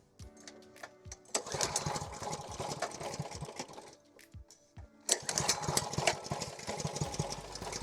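A Ryobi pressure washer's small gasoline engine cranks and sputters in repeated start attempts, loud and close, with bursts of uneven firing that die back between pulls before catching again.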